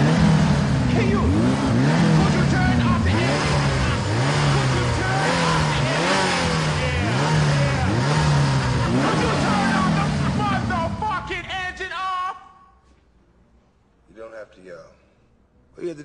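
A car engine revs hard and repeatedly at a car dealership, with loud, rising and falling roars close by. It then cuts off, leaving quiet with a few faint knocks.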